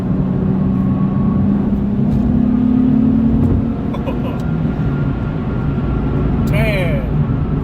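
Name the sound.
Nissan 370z car accelerating while driving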